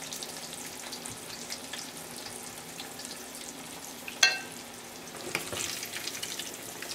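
Eggplant slices fry in hot oil with a steady, quiet sizzle throughout, broken by a sharp utensil clink near the middle and a softer knock shortly after.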